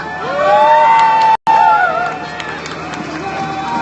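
An audience at the opening of a candlelight rally for the comfort women issue cheers and shouts, with sustained crowd noise and rising whoops, loud throughout apart from a brief dropout.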